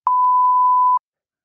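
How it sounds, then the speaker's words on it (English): A single loud, steady censor beep bleeping out speech on a podcast, lasting just under a second and then cut to silence. "I have to beep that out."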